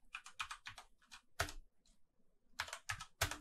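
Quick bursts of keys clicking on a computer keyboard, close and quiet, in uneven clusters with short pauses between them.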